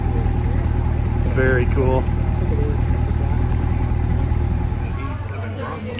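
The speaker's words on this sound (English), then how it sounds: "Selectable exhaust." A Toyota Tacoma fitted with a new selectable exhaust idles with a steady low rumble throughout, while nearby voices talk briefly over it.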